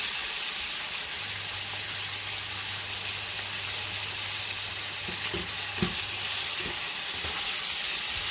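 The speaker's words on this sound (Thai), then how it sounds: "เปลือกแตงโมมันจะแข็งสักหน่อยนะคะ แต่ต้องผัดนานๆนะคะ ผัดนานๆเนาะ" Watermelon rind being stir-fried in a pan, a constant close sizzle with a few stirring clatters and a faint steady hum underneath.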